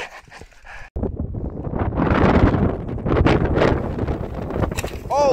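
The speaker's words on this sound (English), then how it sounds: "The wind sucks." Strong gusty wind buffets the microphone on a mountain bike trail, a loud, continuous roaring rush after a quieter start, with brief voices heard around it.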